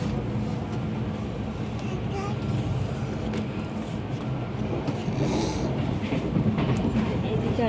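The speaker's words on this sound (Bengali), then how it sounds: "ট্রেন চলছে" Steady train running noise from inside a moving passenger train, a continuous low rumble with faint rail clatter, while people talk nearby throughout.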